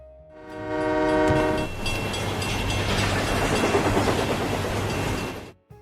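A local train rolls through a rail junction, its horn sounding briefly before a loud, continuous rumble and clatter of wheels dominates until it fades out.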